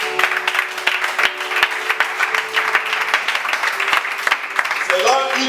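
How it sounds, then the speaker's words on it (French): A church congregation applauds loudly at a Sunday service, a sustained wash of dense clapping with a voice rising over it near the end. "Acclamons très fort pour la parole de Dieu."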